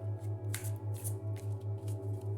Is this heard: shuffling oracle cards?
yes